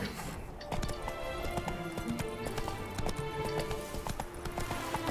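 Roach the horse galloping in The Witcher 3: Blood and Wine, a steady run of hoof clip-clops up close with a brief whinny, over game music and ambience.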